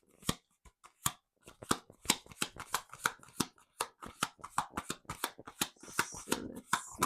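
A deck of cards being shuffled for a card reading, with rapid, close riffling and crisp flicks and taps in a dense, uneven rhythm that runs throughout.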